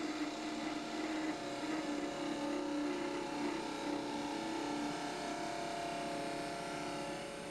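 Wood lathe spinning an elm top during the final cut, the chisel eased toward the centre to form a point; a steady, even motor whir and hum carries on close by the whole time.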